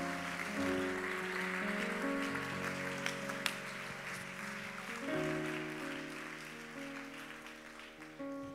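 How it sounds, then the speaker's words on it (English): A church congregation at a Pentecostal Sunday night service claps hands together, a steady sustained wash of applause under organ or keyboard chords, fairly loud and continuous throughout without talk. "clap your hands to him one more time"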